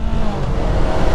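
Yamaha R3 motorcycle fitted with an Akrapovic exhaust accelerating on a city road, a loud close engine drone with wind rush, steady and continuous.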